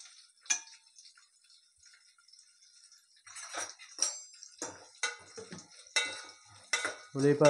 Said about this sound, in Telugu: ఉల్లిపాయ ముక్కలు వేగేదాకా కలయి తిప్పుకోవాలి